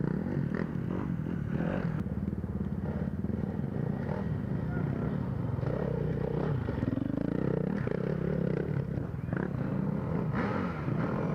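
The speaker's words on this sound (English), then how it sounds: "And now Duvall revving his engine, trying to get the lap riders out of the way" A dirt bike engine drones and revs in the distance under a commentator's voice, with crowd and track noise around it, at a GNCC off-road race.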